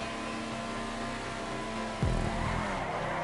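A car drives in GTA V multiplayer, a steady engine hum with tonal drone, then a sudden thump or bump around two seconds in raises the level, with no one talking.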